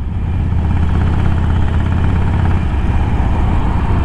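A motorcycle, a Harley-Davidson Iron 1200 or a Royal Enfield Interceptor 650, idles close by in a steady, loud, low rumbling throb with no voices.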